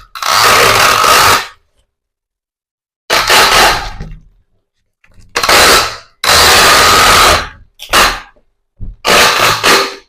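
Packing tape unspooled from a handheld tape machine and wrapped around a parcel, several loud rasping screeches in bursts of one to two seconds separated by silent pauses.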